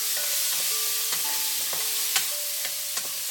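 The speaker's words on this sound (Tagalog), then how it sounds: "Ayan, igisa lang natin siya ng kaunti." Tenderized beef for caldereta sautéed in a pan, a steady bright sizzle with repeated scraping and clinking strokes from a stirring utensil, close and continuous without any talking.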